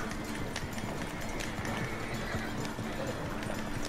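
Horse galloping in Red Dead Redemption 2 online, a steady dense rush of hoofbeats close up with game ambience, continuous and loud throughout.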